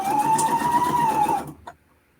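A sewing machine stitching vinyl, running with a steady whirring hum for about one and a half seconds before stopping with a brief click.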